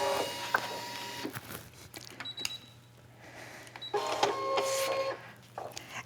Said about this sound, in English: last diamond coming out of the cutter